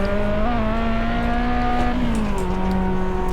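A McLaren P1 engine in the video game Test Drive Unlimited 2 pulls hard through fourth gear, its steady high-revving drone rising in pitch, loud and close with no talk.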